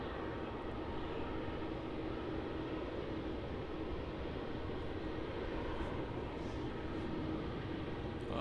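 An airliner taxiing at Melbourne Airport, a steady broad jet engine roar and hiss, constant and fairly distant with no voices.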